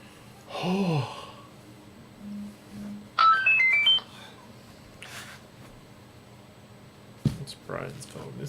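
A mobile phone ringtone chimes in a short melodic burst in a room, with brief mumbling sounds and soft rustles around it and a sudden clatter near the end.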